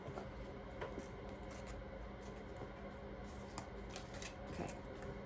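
A large deck of tarot cards being shuffled by hand, a continuous papery riffling and rubbing with repeated soft flicks, close and fairly quiet, no talking.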